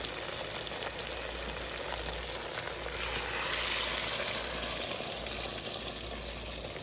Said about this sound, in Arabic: ونقلب الفراخ بتاعتنا مع اللية